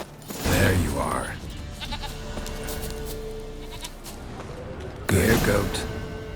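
Goat in The Witcher 3 video game bleating twice, loud and close, each cry wavering, with quieter game ambience between the calls.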